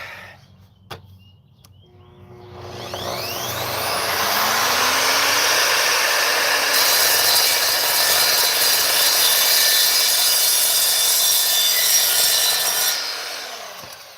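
An Evolution saw cutting through a clamped metal bar, a loud sustained rasping grind that builds up over a few seconds and holds steady, close and alone without talk.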